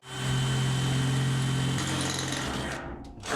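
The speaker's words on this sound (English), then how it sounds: "Here we go with pilot hole." Power drill boring a pilot hole in a shipping container wall runs loud and close, a steady high whine that shifts pitch midway as the bit bites, then winds down and stops.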